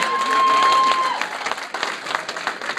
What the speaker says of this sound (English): Give him a nice round of applause if you would as well